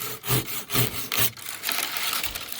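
A hand saw cutting through a branch while pruning an old, neglected fruit tree outdoors, with loud rhythmic back-and-forth strokes, about four clear pulls, then rougher continuous rasping, close to the listener.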